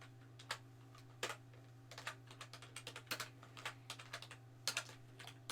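Close, quiet typing on a computer keyboard while writing lines of Python code, with irregular clusters of key clicks and occasional heavier strokes such as the enter key, over a steady low electrical hum.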